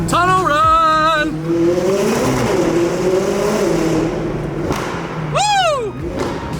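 Car engine revving hard and accelerating through a tunnel, the sharp rising pitch echoing off the walls, with a second loud rev sweeping up near the end; a faint voice cuts in briefly.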